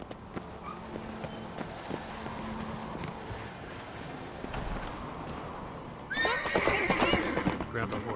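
A horse in The Witcher 3 clops steadily at first, then lets out a loud, bright whinny near the end as galloping picks up, with game dialogue and ambient sound beneath.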